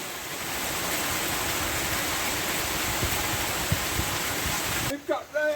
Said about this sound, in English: We've got rain! We've got rain!